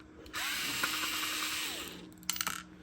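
A power driver unscrews fasteners from a Bostitch electric stapler during a teardown, giving a close, steady whirring buzz for about a second and a half, then a short second burst.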